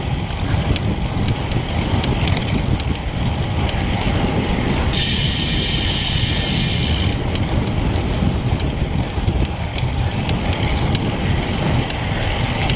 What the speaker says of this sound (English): A little bit of a headwind as I ride east.